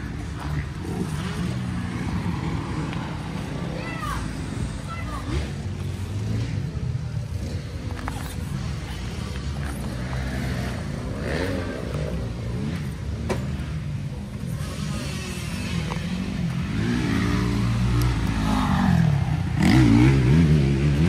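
A 2023 Kawasaki KX450F motocross motorcycle engine revs and idles close by, with rising and falling revs growing louder toward the end. Voices talk intermittently.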